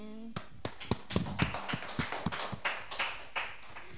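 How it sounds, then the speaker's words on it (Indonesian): Audience at a youth church service gives a round of applause, scattered sharp claps of moderate loudness over a few seconds, fairly sparse rather than a thick ovation, with a voice faintly present at the start. "Sekali lagi tepuk tangan untuk kita semua."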